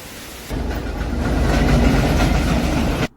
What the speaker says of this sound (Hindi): अब हम लोग पहुंच चुके हैं विधान नगर रोड रेलवे स्टेशन